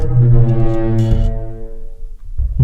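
A simulated dinosaur call made by pushing air through a 3D-modeled hollow crest gives one loud, deep, horn-like blare lasting about two seconds, fading near the end.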